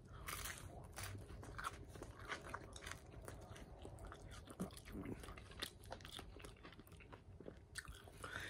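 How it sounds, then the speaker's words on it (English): A bite taken into a slice of thin, crispy-crust pizza gives a close, crunchy chewing sound that runs steadily throughout. "So I'm gonna take a bite."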